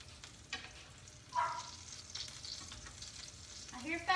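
Smothered pork chops fry in a pan on a home stove, giving a quiet, steady sizzle with a few soft clinks and stirring sounds, no voices.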